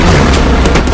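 A gunshot from a crime action film scene, a single deep boom with a broad burst filling the second, loud and close, no voices over it.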